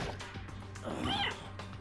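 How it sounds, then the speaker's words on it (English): A cat off somewhere nearby gives one drawn-out, warbling meow in the middle of a short stretch of room tone. The meow is fairly faint, and nobody talks over it. "I heard a noise out there. That sounds like a cat being a weird."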